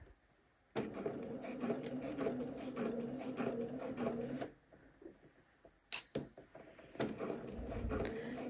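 Sewing machine stitching along a previous stitch line on pants, a short steady run followed by clicks and handling noises, then a brief restart, close up.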